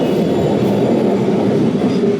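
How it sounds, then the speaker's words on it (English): Old Kolkata tram passing close by on a city street, a loud continuous rumble of wheels on rails with a faint metallic clatter, and no voices. "The old Kolkata tram."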